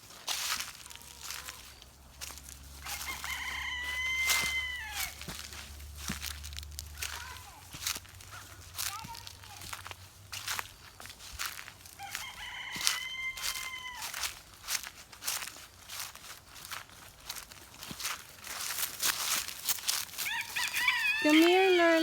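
Backyard chickens clucking with a rooster crowing a few times, near and moderately loud, while children talk and play around a compost pile.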